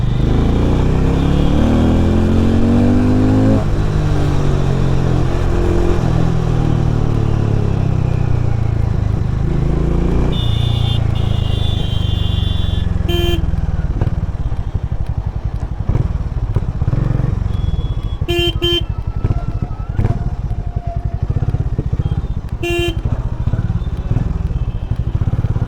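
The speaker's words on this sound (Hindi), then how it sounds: "This is the single cylinder 440cc engine, air and oil cooled." A Harley-Davidson X440 single-cylinder 440cc air- and oil-cooled motorcycle engine idles and revs nearby, a loud throbbing rumble that rises and falls, with a few metallic clicks and clatters.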